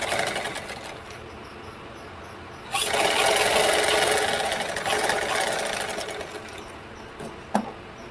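A sewing machine stitches a half-inch seam on a blouse lining, a continuous close motor whir that swells louder midway, then eases off and ends with a sharp click.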